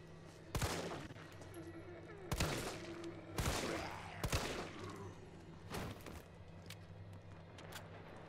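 Five or six loud, distinct gunshots in the Resident Evil 3 Demo, spaced about a second apart over a steady low hum, each with a short echoing tail.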